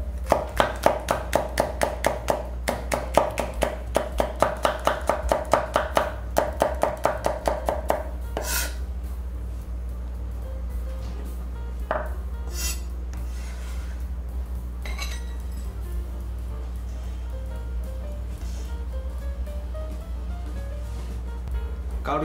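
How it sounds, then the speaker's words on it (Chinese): A knife chops red chili peppers into rings on a board, a fast, even run of crisp taps for about eight seconds, followed by quieter scattered knocks and handling noises. "红辣椒切圈片"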